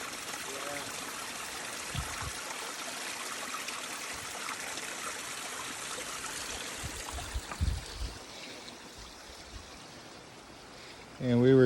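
A clear mountain stream on the backpacking route from Quinault Lake to Enchanted Valley rushes and trickles in a steady, moderate wash, with a few soft knocks and a louder bump at the end.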